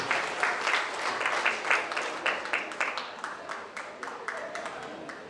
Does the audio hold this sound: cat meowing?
no